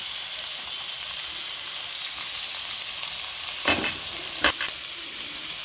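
Capsicum tossed into a pan for a pasta dish sets off a loud, steady sizzle of frying, with two sharp scraping stir strokes near the end.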